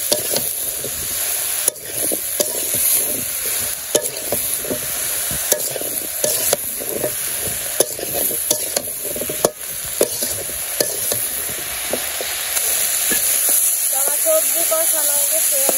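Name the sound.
vegetables being stir-fried in a pan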